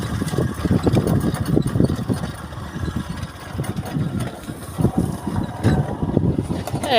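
A motorbike riding across a potato field in rural Assam, its mid-pitched engine droning steadily with rough surges and bumps, close to the microphone, with wind buffeting throughout.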